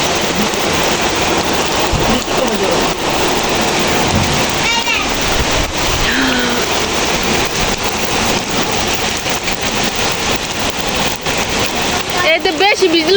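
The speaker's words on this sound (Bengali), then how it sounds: "বিকেলবেলা হলো, বৃষ্টি নামতেছে" Steady afternoon rain pours down outdoors, a dense, loud hiss of drops on surfaces that runs without a break. Brief vocal sounds rise faintly above the downpour now and then.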